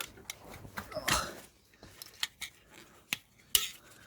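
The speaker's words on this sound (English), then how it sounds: "just cut this off. Because it's gone quite hard, it is quite hard to cut." Hardened, perished rubber CV boot on a VW T5 being cut off with a blade, heard as a series of sharp, irregular snips and scraping clicks, close and fairly quiet, with brief pauses between cuts.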